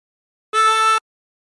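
Single harmonica draw note on hole 3 bent down to A, a clean, sustained reedy tone of about half a second, alone in silence.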